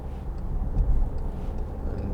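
A 2014 Volkswagen Tiguan 2.0 TDI diesel heard from inside the cabin gives a steady, low engine and road rumble that swells briefly as it picks up speed, with no voices.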